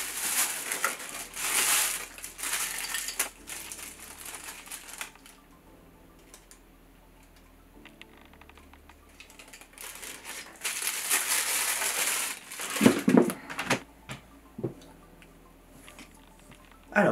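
Plastic toy packaging from a Hasbro Astro Megazord crinkles and crunches in close, loud bursts, with a quieter lull in the middle and rustling that returns toward the end.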